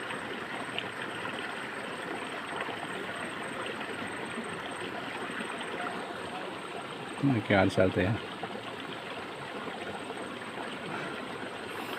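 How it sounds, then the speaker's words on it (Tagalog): Water runs steadily along a stream in a rural farmland setting in Silago, a continuous soft rushing that persists throughout, with a brief louder burst partway in and people talking over it. "Narinig natin yung tubig."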